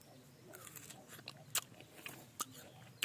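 Someone bites into and chews raw Indian gooseberries (amla) outdoors in a village, soft crunches and a few sharp cracking bites over quiet background noise, close to the mouth.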